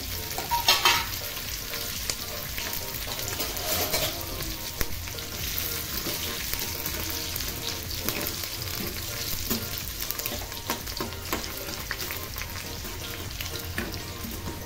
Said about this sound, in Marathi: लसूण आपला असा छानसा गुलाबी होईपर्यंत तडतडून द्यायचा